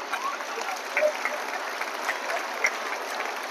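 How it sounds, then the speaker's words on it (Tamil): An audience at a Tamil lecture claps together in a steady, moderate round of applause lasting a few seconds, heard from within the hall with no talking over it. "கைத்தட்ட அந்த பையனுக்கு நன்றி"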